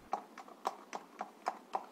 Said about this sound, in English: It was the witching hour as Ichabod rode his horse home